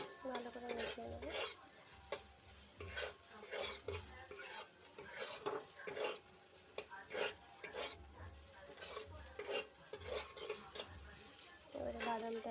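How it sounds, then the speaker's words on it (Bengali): Spoon stirring chire pulao (flattened rice) with boiled potato in a pan, a run of repeated scraping strokes with clinks of utensil on metal over a light sizzle, close and clear. "আলুটা আমার সেদ্ধ হয়ে গেছিলো। ভালো করে মিশিয়ে নেবো।"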